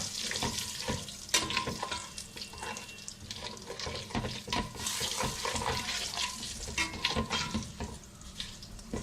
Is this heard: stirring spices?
yes